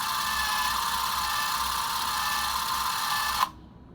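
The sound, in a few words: Super 8 camera motor running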